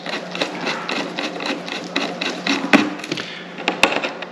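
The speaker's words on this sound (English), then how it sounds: "It takes a T6 star screw head to remove all the screws on these." Small T6 star screws being unscrewed from a Hitachi mini hard drive, a close run of rapid ticking, scraping driver clicks with a couple of sharper taps, no talking.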